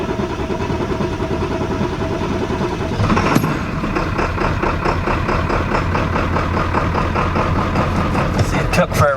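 An old pickup truck with a fuel leak and a cracked housing cranks for a few seconds, then catches and runs loud and close with a rough, uneven, misfiring idle.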